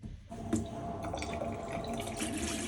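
Water runs from a sink tap in a newly rented house, a steady, fairly faint splashing and trickling stream with a few small drips, heard alone without talk.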